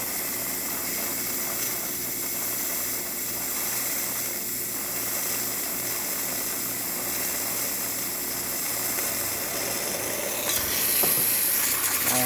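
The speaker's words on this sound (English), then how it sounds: "As you can see, it started to steam up." A Saeco espresso machine's steam wand hisses and sizzles steadily at full pressure after servicing, a constant rushing noise with a low pump hum beneath, close and loud throughout, no voices.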